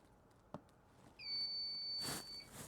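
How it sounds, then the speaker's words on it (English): A soldering iron switching off gives a loud, sustained electronic beep tone lasting about a second, preceded by a faint click and a brief hiss of handling noise at a repair bench. "And that's my soldering iron."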